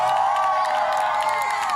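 An audience in a church gathering cheers for the Army side of an Army versus Navy contest, a sustained loud wash of shouting and whooping voices.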